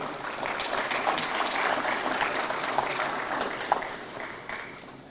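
Audience at a petroleum and natural gas conference applauds steadily for about five seconds, a dense wash of clapping that tapers off at the end.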